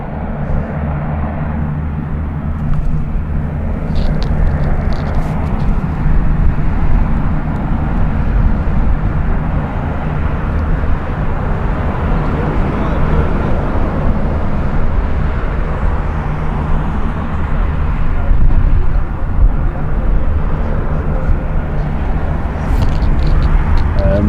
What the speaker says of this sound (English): PC-12 coming in, Finnish Air Force in a minute